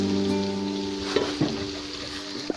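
Beef seasoned with coriander, salt and garlic fries in a pan for daging batokok, a steady close sizzle with a few clicks of stirring and a low hum underneath.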